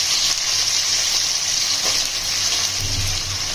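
Chopped onions sizzling in hot oil with fennel and curry leaves for a Tamil-style chicken gravy, a steady bright frying hiss with occasional stirring scrapes, close and continuous.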